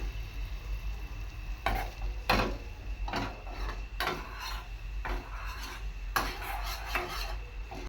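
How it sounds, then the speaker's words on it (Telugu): Oreo biscuit cake batter being stirred in a bowl, a series of scraping, rubbing strokes against the bowl repeating at a steady, loose rhythm over a constant low background hum. "మనం కలిపేసుకుందాం"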